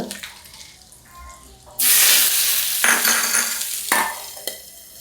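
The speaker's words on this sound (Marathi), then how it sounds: "तर मी फोडणी देऊन घेते त्याला मोहरी टाकली ती कडकपत्ता थोडासा हिंग" Mustard seeds, curry leaves and asafoetida hit hot oil in a loud sudden sizzle that crackles on, flaring again in short bursts as the tempering spits close by.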